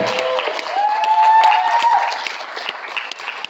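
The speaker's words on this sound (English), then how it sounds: "can I get a round of applause for these amazing talents?" A crowd at a film premiere claps and cheers for the cast, with a brief whoop rising over the dense applause before it thins out.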